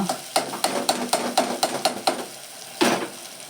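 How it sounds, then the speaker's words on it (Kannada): Eggplant frying in a pan, with a run of sharp rhythmic clacks from a spoon stirring against the pan over a soft sizzle, then a brief pause and one last louder knock. "ಬದನೆಕಾಯಿ ಹಾಕಿ 2 ನಿಮಿಷ ಫ್ರೈ ಮಾಡಿದ್ದೀನಿ ಈ ಥರ"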